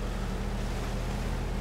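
A truck in the Spintires: MudRunner off-road game wading through deep water, a steady low engine drone blended with continuous sloshing and rushing water, constant and fairly quiet throughout.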